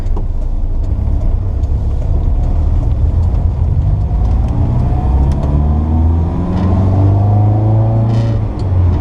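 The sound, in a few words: 1965 Volvo 1800S engine running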